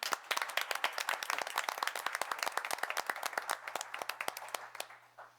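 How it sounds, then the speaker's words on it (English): Town board meeting audience clapping for Ms. Hoffman, a burst of sharp, distinct handclaps from a modest group, quickly paced and tapering off near the end, with no talk over it. "Ms. Hoffman, please stand up as we clap for you"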